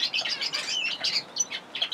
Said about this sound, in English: there's one or two of the youngsters that are, I'm guessing, almost certainly cock birds, the way they're singing away